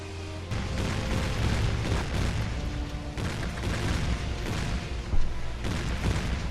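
Ship cannons firing in the naval combat game Warship Gunner 2, heavy booming blasts rolling over one another in a dense, continuous barrage with several sharper reports, loud and sustained throughout.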